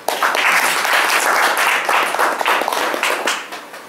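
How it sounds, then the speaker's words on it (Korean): A concert crowd applauds loudly and steadily for a few seconds, dense overlapping claps filling the room before tapering slightly at the end. "박수 한번 보내주세요."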